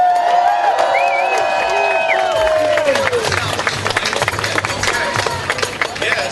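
A large outdoor political rally crowd applauds and cheers for New Jersey Senator Mike Doherty, a steady roar of clapping and whoops that carries on throughout, with a few tonal whistles and some voices mixed in.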